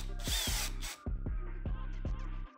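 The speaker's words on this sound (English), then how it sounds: "I'll secure it down with some self-tapping screws" Power drill driving self-tapping screws into a Harley saddlebag lid, a loud close whine followed by several short bursts of motor revving and slowing in a steady rhythm.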